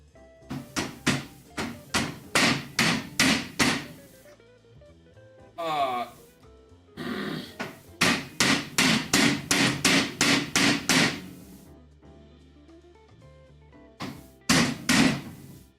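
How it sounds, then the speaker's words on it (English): Bursts of rapid hammer blows strike wooden headboard posts, several quick runs of close, sharp knocks separated by pauses, with an occasional breath or gasp between them. "have to be a lot more careful with hammering these"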